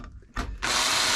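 A power drill drives a screw into wood for a sign: a short rubbing burst, then the motor whines up into a loud steady drone, close by.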